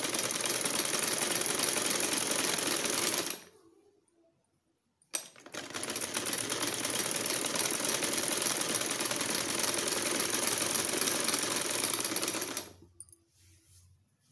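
A sewing machine stitches buckram into a men's shirt cuff: a loud, steady whirring run, then a short pause, then a second long stitching run that stops abruptly, with no talking.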